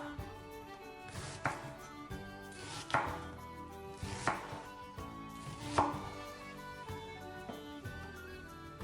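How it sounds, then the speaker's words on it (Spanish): Onions sliced julienne with a knife on a board, a slow series of soft, evenly spaced chops over quiet background music, with no talking. "Nosotros cortamos las cebollas en juliana"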